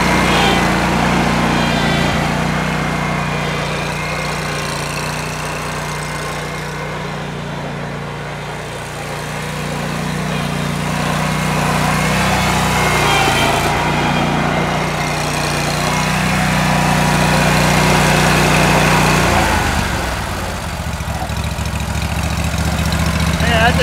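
A Wright Stander ZK autonomous stand-up riding lawn mower runs outdoors with a steady, loud engine drone and low idle hum throughout, dipping and rising as it moves, with a brief shift in tone near the end.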